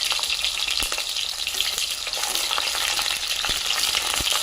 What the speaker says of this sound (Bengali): এই যে বেগুন দিয়ে দেবো আগে তেলে